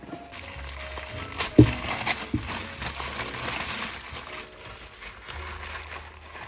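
Cardboard and packing material crinkle and rustle as an eBay box is cut open and unpacked, with a sharp knock early on and soft scraping handling sounds at close range, no talk.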